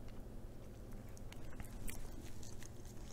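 Someone chews homemade bison sausage close up, with soft wet bites and squelching over a steady low background hum. The sound is faint and continuous.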